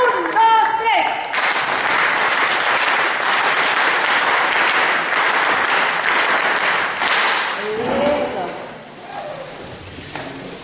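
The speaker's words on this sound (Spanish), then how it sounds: "Le damos un aplauso a ellas, que nos siguen acompañando." Audience at a book launch event in Chile applauding, a long even burst of clapping that tapers after about eight seconds, with voices speaking briefly at the start and again as the applause dies away.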